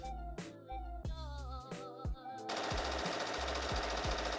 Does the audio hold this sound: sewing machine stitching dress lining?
yes